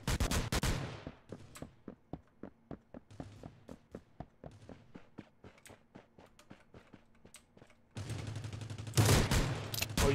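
Rapid single gunshots in the battle royale video game Rules of Survival on a snowy map, an evenly spaced string of sharp cracks with louder bursts of action at the start and end, no talking.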